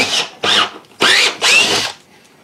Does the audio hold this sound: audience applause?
no